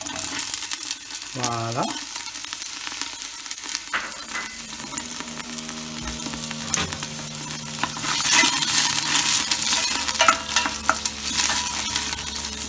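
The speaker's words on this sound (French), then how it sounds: "Donc là, je vais rajouter mes oignons. Voilà. Après, je rajoute mes carottes." Onions sizzle in a frying pan as carrots go in, a continuous crackling fry with stirring and utensil scrapes. It grows louder and busier toward the end, and a brief spoken word sits over it.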